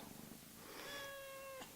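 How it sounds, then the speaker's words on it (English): A young kitten with big blue eyes purrs softly up close, a low rumble joined by a drawn-out high mewing note that fades, with no talking over it. "Don't know if you guys can hear that, but he's a big purr."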